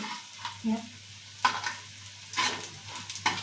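Bitter gourd pieces frying in a small amount of oil, heard as intermittent stirring scrapes and clatters with a low sizzle between them, close and uneven, with no voices.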